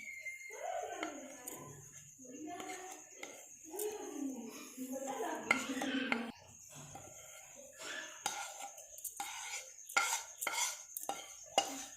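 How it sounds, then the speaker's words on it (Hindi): Spices for stuffed bhindi are mixed in a bowl, with a spoon scraping and clinking against the sides in quick, uneven strokes while a voice talks softly throughout. "अब इसको हम अच्छे से मिक्स कर लेते हैं।"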